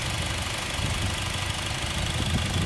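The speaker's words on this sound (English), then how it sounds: "Very quiet though. Good sounding engine." A 2015 Honda Civic Si coupe engine idles steadily, giving a smooth, continuous low rumble at close range with no talking over it.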